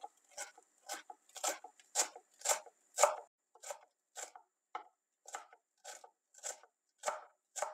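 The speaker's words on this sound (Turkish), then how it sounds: "En son olarak da bir avuç dereotu, bir avuç maydanoz, 3-4 dal da naneyi güzelce yıkayıp ufak ufak doğruyoruz" Fresh dill, parsley and mint are chopped finely with a knife on a board, a steady run of crisp rhythmic cuts, about a dozen distinct strokes close by with quiet gaps between them.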